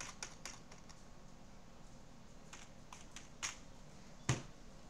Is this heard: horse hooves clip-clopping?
no